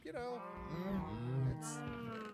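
Cows in the video game Minecraft moo, one long, drawn-out low bellow close and loud that wavers in pitch, with no talking over it.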